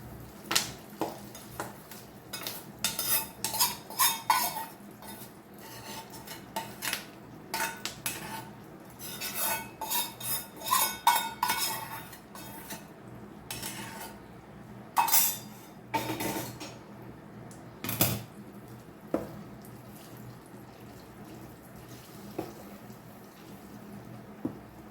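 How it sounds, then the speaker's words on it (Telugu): A metal spoon clinks and scrapes against a pot as tempering is stirred into tomato and raw mango chutney with carom leaves, irregular bursts of stirring and tapping that grow sparser toward the end. "ఇదిగోండి, తాలింపు వేసేస్తున్నాం."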